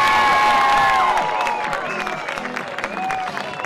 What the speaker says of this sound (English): give Dixie Thomas a big round of